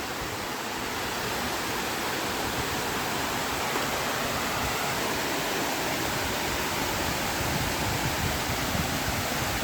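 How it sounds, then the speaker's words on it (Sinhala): Kirindi Ella, a 116 m waterfall in Pelmadulla, Sri Lanka, roars as a loud, unbroken rush of falling water that stays constant throughout. "ලංකාවේ 7 වෙනියට උසම දිය ඇල්ල තමයි කිරිඳි ඇල්ල"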